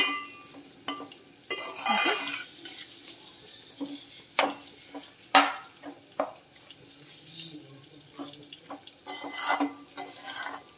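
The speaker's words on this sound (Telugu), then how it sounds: "ఇలా మిక్స్ చేసుకుంటూ బాగా ఫ్రై చేయండి. అడుగు పట్టనివ్వకండి, మధ్య మధ్యలో కలుపుకుంటూనే చేయాలి." Bottle gourd curry is stirred and fried in a pan: quiet sizzling with scattered scrapes and sharp clinks of a spoon against the pan at an irregular pace.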